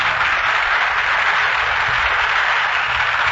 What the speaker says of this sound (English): We hear the applause as the curtain falls.